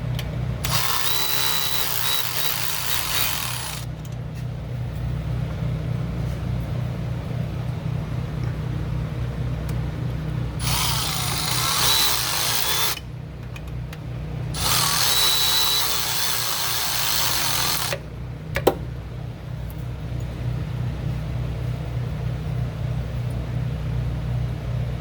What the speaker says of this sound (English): I need to tighten up these turbo bolts a bit so it doesn't flop around as much.